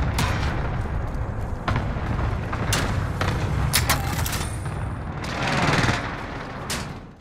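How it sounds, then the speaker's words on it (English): Precision airstrike explosions in the shooter Call of Duty: Modern Warfare, a loud, rumbling barrage of booms and blasts with sharp cracks, building to a heavy surge near the end. "Allied precision airstrike incoming"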